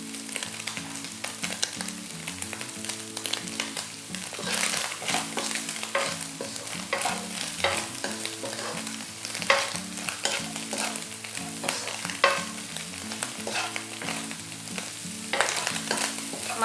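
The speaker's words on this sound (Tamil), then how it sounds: "அப்பப்போ கிளறணும்." Vegetables for chicken fried rice stir-frying in a hot pan over high heat, with continuous loud sizzling and frequent scraping and clattering strokes as they are tossed, and no talk.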